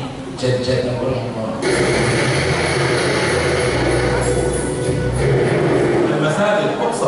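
Fighter jets roar overhead in a continuous loud, broad rumble with a rising whoosh partway through, heard from a distance over steady background noise.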